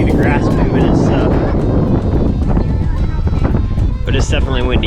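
Strong wind buffets a GoPro Hero 9 microphone outdoors on a hillside, a loud continuous rumbling roar that nearly fills the clip, with people talking through it.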